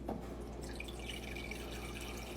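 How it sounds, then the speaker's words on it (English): Tap water runs into a measuring cup in a short indoor burst, a steady close splashing fill lasting a couple of seconds before stopping abruptly. "let's fill the measuring cup up with water."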